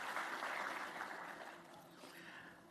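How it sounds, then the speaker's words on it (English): A conference audience claps for a speaker, a soft, even wash of applause heard from a distance that slowly fades. "Shall we give him a round of applause?"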